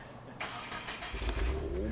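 A K24-swapped EK hatch car engine cranks and catches after stalling, the starter whir giving way to a rough, rising idle close by.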